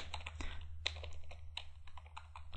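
Close typing on a computer keyboard in accounting software, with quick, uneven keystrokes and a few sharper taps over a low steady hum.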